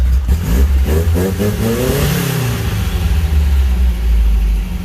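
Close, loud revving from a Rambler car engine: the idle climbs in a couple of quick throttle blips that rise and fall, then drops back to a steady low rumble with no talking.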